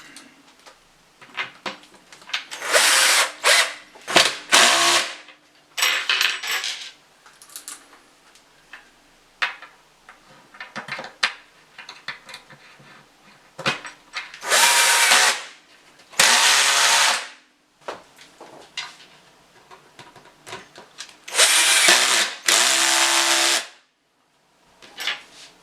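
A power drill drives screws to fasten corner brackets while a sliding-door wardrobe is assembled, with several loud whirring bursts of a few seconds each between quieter handling clatter.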